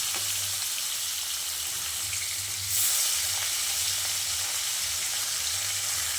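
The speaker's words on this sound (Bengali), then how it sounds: "আমি আজকে একটু হালকা করে মাছটাকে ভেজে রান্না করছি" Hilsa fish fries lightly in oil, a steady close sizzle and crackle that runs without a break, with one brief louder spatter partway through and no talking.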